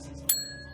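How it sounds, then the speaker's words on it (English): A bell in the video game Contradiction gives one sharp, bright ding that rings out and fades over a low background hum. "What's the bell?"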